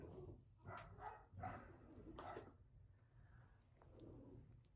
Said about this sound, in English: Hearing dogs bark, sorry.